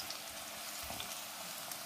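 Bitter gourd frying crisp in a pan of hot oil, a steady dense sizzle with soft crackles running evenly throughout, close and moderately loud with no voices.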